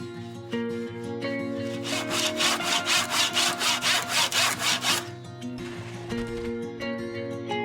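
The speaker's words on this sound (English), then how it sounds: "Use something heavy to hold down the 2x4 and make our first cut." A hand saw cuts through a 2x4 wooden board in a rapid, even series of back-and-forth rasping strokes, close and loud, over a steady background hum.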